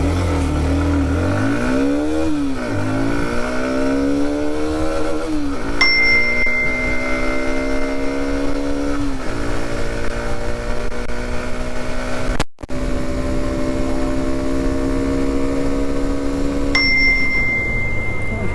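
A Hero Xtreme 125 motorcycle accelerates hard from 0 toward 100, its engine note climbing loudly and repeatedly through gear shifts, heard up close with wind noise and no talking.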